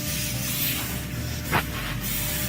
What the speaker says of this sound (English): Our air compressor over there is going off.